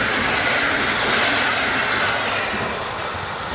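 An Intercity passenger train hauled by an EP07 electric locomotive with three carriages passes close by, a loud steady roar of wheels and motors that eases slightly toward the end.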